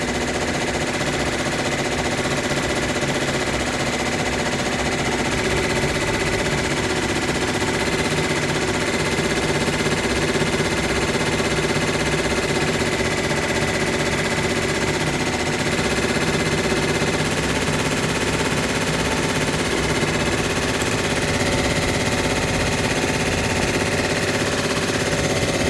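Embroidery machine stitching a Thanksgiving wall hanging, a continuous, steady rapid clatter that stays loud and unbroken throughout.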